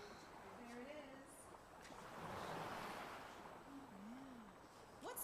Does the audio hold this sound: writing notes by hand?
no